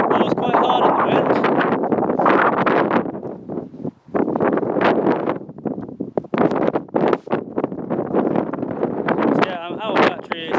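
Strong wind buffets an outdoor microphone at a Cornwall quarry, a loud continuous rumbling roar with gusty swells and one brief lull partway through.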